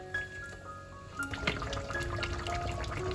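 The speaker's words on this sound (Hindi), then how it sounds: "हाफ ग्लास पानी ये मैं अंदर डाल रही हूँ।" Half a glass of water poured into a pot of chicken korma, a brief, soft liquid pour and trickle, faint and close, with no talk.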